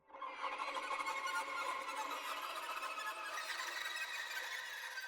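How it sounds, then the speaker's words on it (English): A thin, shimmering sustained violin tremolo, bright and continuous, hovering tensely for several seconds without any voices. "I also added these violin tremolos"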